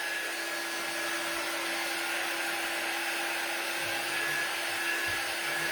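A hair dryer blows a steady, loud, unbroken whoosh of air over a resin Santa plaque, droning evenly and close by with no talking.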